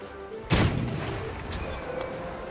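A cannon in a golf video game fires one sharp, booming blast at close range, followed by a lingering rumble under quieter game sounds.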